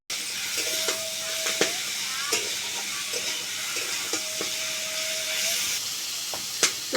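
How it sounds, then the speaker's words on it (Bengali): Potato and mushroom pieces with spices sizzle steadily in a hot pan, a continuous close frying hiss broken by occasional sharp scrapes and clacks of stirring. "এবারে সমস্ত মশলাগুলো দিয়ে খুব ভালো করে নেড়ে চেড়ে এটাকে আমি কষিয়ে কষিয়ে এইভাবে রাঁধতে থাকবো।"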